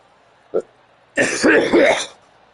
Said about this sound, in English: The coughing restarted.